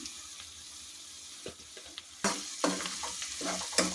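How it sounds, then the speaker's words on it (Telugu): Onions frying in a pan for sorrel leaf curry with turmeric and salt, a soft sizzle under intermittent scraping stirs and clinks, close but quiet, no talking. "ఉల్లిపాయలండి ఒక రెండు నిమిషాలు ఎగితే సరిపోతుంది"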